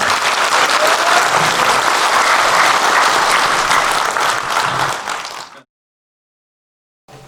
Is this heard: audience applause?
yes